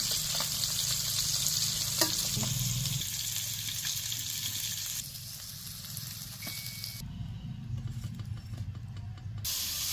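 Semolina-coated fish pieces shallow-fry on a flat tava, giving a loud, steady close-up sizzle and bubbling hiss that runs throughout, with a few brief clinks of turning near the start.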